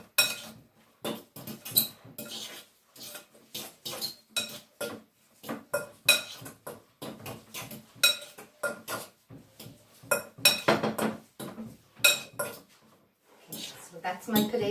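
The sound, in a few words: mixing mustard, salt and pepper together in a bowl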